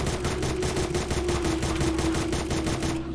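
Rapid automatic gunfire from a gun in Minecraft during a zombie apocalypse survival game, a fast, even stream of loud shots holding for about three seconds before stopping abruptly.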